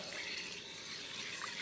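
Tap water runs steadily while home-grown carrots are washed, a brief continuous splashing hiss at moderate level. No one speaks.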